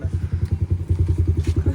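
A motorcycle pulls up close by, its engine thumping in a fast, even, pulsing beat that stays loud and steady throughout.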